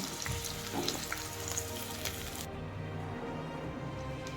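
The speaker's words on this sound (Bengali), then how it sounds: "এখানে ফুলকপিটা আমি একটু ভাপিয়ে নিয়েছিলাম, সেটাই এখন ভেজে নিচ্ছি।" Steamed cauliflower fries in hot oil in a pan, giving a steady, close sizzle with faint crackles and stirring throughout, no voices.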